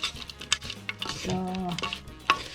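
Rum-soaked dried mixed fruits for a fruit cake are stirred in a bowl, giving short, sticky, wet squelches and light spoon scrapes over a few seconds.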